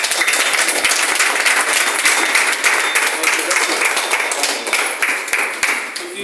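An audience stands and applauds a woman at a gathering, loud, close, dense clapping with sharp individual claps throughout, easing slightly near the end.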